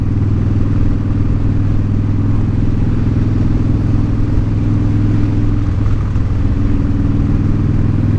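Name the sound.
lawn care trucks driving past outside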